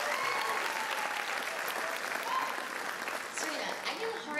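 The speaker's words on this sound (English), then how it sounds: "round of applause" Steady applause from an audience after a classical Indian dance recital, dense and sustained throughout with faint voices mixed in.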